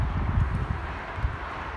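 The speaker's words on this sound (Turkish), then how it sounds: "Bayağı bir rüzgar var." Strong wind gusting across an open rooftop pigeon loft area, a steady broadband roar with low buffeting rumbles on the microphone, continuous and fairly loud throughout with no talk.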